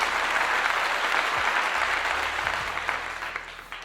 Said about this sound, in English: If I give a clap to that.